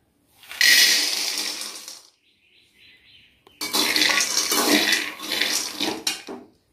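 Peanuts dry-roasting in a pan over a medium flame, stirred in two loud bursts of dry rattling and scraping separated by a quieter pause.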